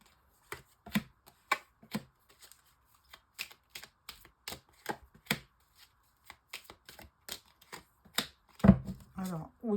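Tarot and oracle cards are shuffled and laid down one by one, with crisp close card snaps and flicks in an irregular rhythm and a heavier shuffle near the end. Faint speech.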